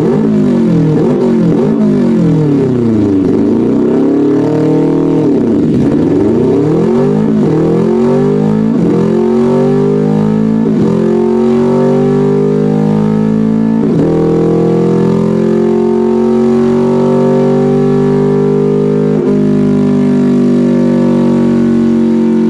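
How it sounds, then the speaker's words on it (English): Simulated engine with unequal length headers, its exhaust pulses from one bank arriving later than the other, giving a loud continuous rumbling drone that rises and falls in pitch through several revs and shifts, with no talk over it. "Let's try unequal length headers, which causes the exhaust pulses from one bank to arrive later than the other, and this creates a sort of rumble sound in the exhaust."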